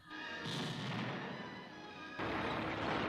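An M26 Pershing tank fires its 90 mm M3 cannon in a World War II setting, loud booming blasts with a sustained rumbling roar and a second heavy burst near the end.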